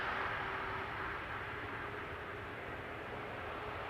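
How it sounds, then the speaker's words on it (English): A steady, distant jet roar from an airliner on approach to land at Amsterdam Schiphol Airport, broadband and even throughout with a faint tonal whine. "coming in to center, parallel to it, is the Adler flight 1816, flying on behalf of KLM"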